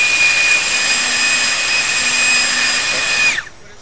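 An electric ducted fan spins at steady throttle, producing a loud, close, high-pitched whine with sharp tonal layers that holds for about three seconds before abruptly spooling down to near silence.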